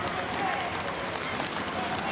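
Crowd at a professional wrestling tag team title match roaring and cheering continuously, a dense, loud wash of voices and applause filling the arena with no breaks.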